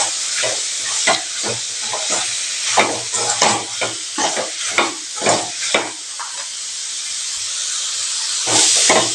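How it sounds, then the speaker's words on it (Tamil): Beef liver fry is sautéed in a pan with chilli, coriander and garam masala powders, a spoon scraping and stirring in quick strokes over a constant loud sizzling hiss. "பொடியெல்லாம் சேர்த்து நல்லா வதக்கி விட்டுக்கலாங்க."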